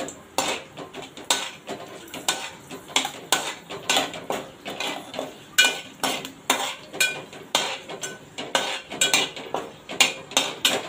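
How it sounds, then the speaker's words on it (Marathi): Whole spices and bay leaf are stirred in a hot pan while cooking tondli rice, giving a steady run of scraping and clinking spoon strokes against the metal, loud and close, with a light sizzle beneath. "तेजपत्ता वगैरे आहे, 1 मिनिट परतून घेणार आहे।"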